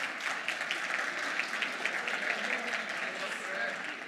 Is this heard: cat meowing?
no